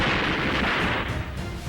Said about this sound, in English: Enemy fire cracked through the trees.